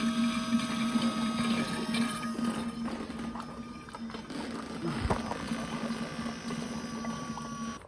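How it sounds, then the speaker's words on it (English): An electric power steering pump running on a G Body El Camino restomod gives a steady mechanical whine and hum, close and constant, with a faint knock partway through and no talking. "We've seen that the pump comes on now."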